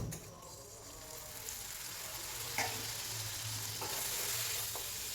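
Spices sautéing in hot oil for a small-fish curry give a steady soft sizzle, with a few sharp stirring clicks from a utensil against the pan, quiet and without voices.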